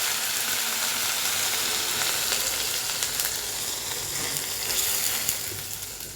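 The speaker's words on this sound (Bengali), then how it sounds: "ডিমগুলো ভাজি হচ্ছে, ডিমটা ভাজি হয়ে গেছে।" Eggs fry in a wok with a steady, fairly loud sizzle and spatter, heard up close with light stirring and no speech.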